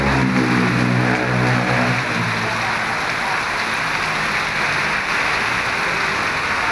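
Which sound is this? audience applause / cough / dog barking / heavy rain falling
heavy rain falling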